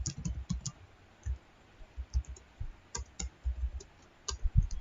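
Keyboard typing while writing Python code, scattered bursts of crisp key clicks separated by short pauses, close and fairly quiet, with no talking.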